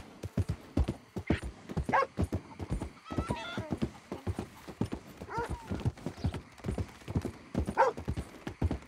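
Horse hooves clip-clopping at a fast, steady gallop in the Western game Red Dead Redemption 2, close and prominent, with brief whinnies mixed into the rhythmic thudding.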